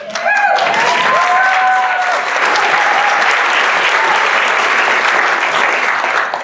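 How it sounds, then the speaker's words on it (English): Members at a Rotary club meeting give a round of applause, a loud, even burst of many hands clapping, with brief voices and a whistle-like tone near the start before the clapping carries on alone. "Greg, do you want to stand so we can applaud you for your Rotary party on Sunday?"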